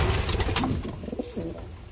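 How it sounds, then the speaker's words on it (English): A pigeon coos a few soft, throaty notes close by, with a brief burst of fluttering or rustling at the start. "Crazy pigeon, whichever one that one was."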